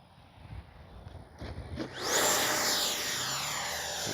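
An FMS Integral 80mm RC jet at quarter throttle gives a steady, rising turbine whine that swells and holds at a fairly loud level, with faint outdoor noise before it.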